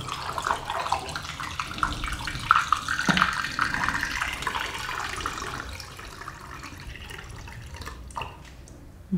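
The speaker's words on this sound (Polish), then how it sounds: "I teraz musimy to wylać z powrotem." Used fixer poured from a film developing tank for Praktica Super TL negatives, a continuous liquid splash and gurgle into a sink, steady and close, thinning out toward the end with a few drips.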